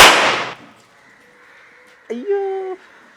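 A homemade cork gun built from an air gun fires one loud, sharp blast that decays quickly, followed moments later by a short tonal chirping sound.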